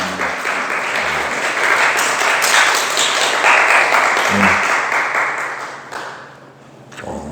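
A church congregation at a Sunday worship service applauds to welcome visitors, a full room of steady clapping that swells and then tapers off, with a voice briefly heard.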